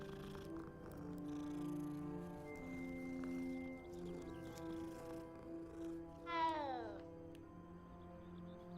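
A cat meows in a Hogwarts video game, with a rising, wavering call standing out over a steady background music bed.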